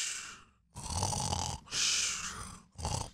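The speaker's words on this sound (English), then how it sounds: "Dang, he snores loud." A character in the Roblox game Brookhaven RP snores loudly in three long, rasping inhale-exhale snores separated by short gaps, close and heavy.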